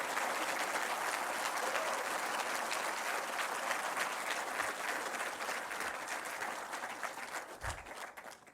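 Dense, continuous applause from a ceremony audience addressed by Pakistan's prime minister, loud and steady before thinning slightly toward the end, with no talking over it.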